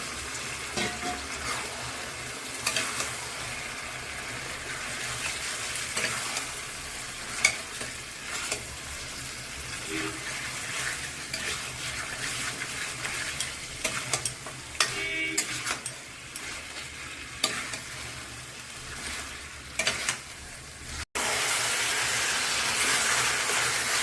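Chicken frying and stirred in a red paste of ground chili and garam masala in hot oil, steady loud sizzling with intermittent scraping stir strokes, and a sharp jump in sizzle late on.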